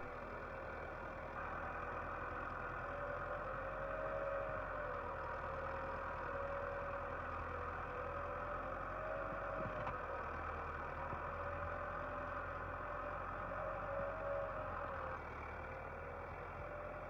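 A tractor engine runs steadily at a low, constant idle-like drone while working its way out of muddy ground, loud and continuous with a slight tonal whine and no voices.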